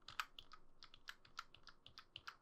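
Fingers type on a Logitech K300 membrane keyboard, a quick irregular run of soft, muted key clicks, fairly quiet and close, with no voices.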